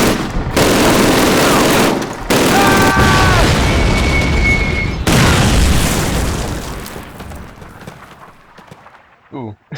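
World War II battle in Call of Duty at St. Mère-Église in daylight: booming mortar explosions and rattling gunfire form a loud, continuous roar that eases toward the end.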